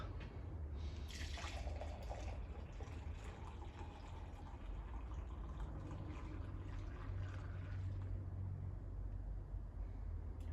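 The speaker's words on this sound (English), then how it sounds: "The rest is going into the big pint mug." Homemade butter beer streams through a sieve into a big pint mug, making a faint, steady trickle with a brief brighter splash early on.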